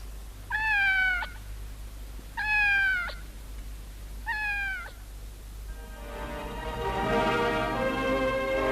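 A cat meows three times in a radio drama, clear drawn-out cries evenly spaced and fairly close, followed by a soft tonal musical swell rising beneath a quiet background hum.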